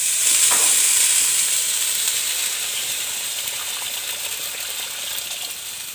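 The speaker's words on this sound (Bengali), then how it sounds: "কড়াই আগে থেকে বসিয়ে রেখেছি, এখন আমি জল দেব" Water poured into a hot wok (kadai) on the stove, giving a bright hissing sizzle that starts strong and slowly settles into a steady, softer steam hiss, with no talking.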